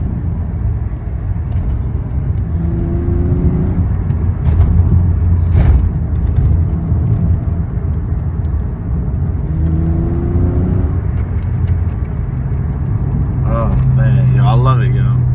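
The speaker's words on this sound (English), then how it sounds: "Finally got some exhaust work done on this jump, man." A car with newly modified exhaust rumbles with a deep, steady drone, rising briefly in a couple of revs, while someone talks over it close up.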